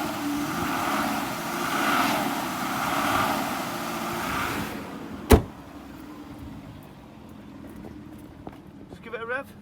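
A 2005 Aston Martin engine runs at a steady, humming idle close by, then shuts off with a sharp click, leaving near silence with a few faint chirps at the end.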